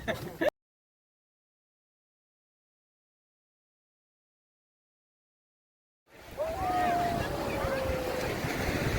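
A speedboat runs on the open sea at Shivrajpur beach near Dwarka. After a short burst and several seconds of silence, steady wind buffeting and rushing water rise and continue, with a faint whining engine tone underneath.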